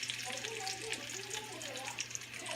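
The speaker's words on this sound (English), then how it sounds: "Let's put all the onions in here," Onions sauteing in a high-edged frying pan give a steady, close sizzle with a soft crackle that runs unbroken throughout.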